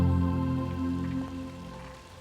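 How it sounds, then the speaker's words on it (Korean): Rain falls on a wet riverside nesting area, a dense steady patter with no voices that eases slightly toward the end. "이렇게 비가 오는 날은 비상이다"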